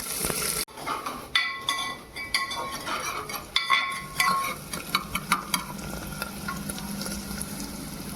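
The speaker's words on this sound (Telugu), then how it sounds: "ఆయిల్ హీట్ అయిన తర్వాత రెండు లవంగా పట్ట అలాగే కోసి పెట్టుకున్న ఉల్లిపాయలు వేసేసుకుందాం" Chopped onions with cloves and cinnamon hit hot oil in a pan, giving a steady crackling sizzle with clinks of a spoon or utensil stirring against the pan; no one talks.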